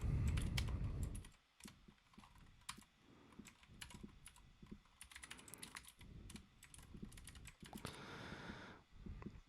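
Code being typed on a computer keyboard, rapid uneven clicking keystrokes close by, with a brief louder thump at the start and no talking.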